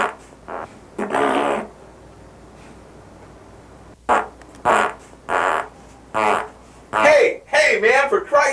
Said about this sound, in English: You've been passing gas ever since you've been in here.